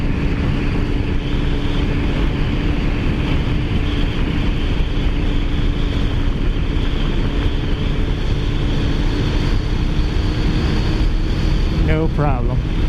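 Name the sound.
Kawasaki ZX14r motorcycle riding in 4th gear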